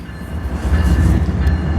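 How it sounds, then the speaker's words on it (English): A passing train rumbles loudly and steadily nearby, heavy low wheel noise rising slightly and sustained throughout. "we got a train coming by here"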